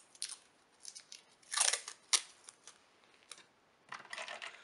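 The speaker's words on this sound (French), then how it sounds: "je vais rajouter un morceau de scotch." Painter's tape is torn and pressed down while a winter junk journal is being assembled, making several faint, close crinkling rips in short bursts with quiet gaps between them.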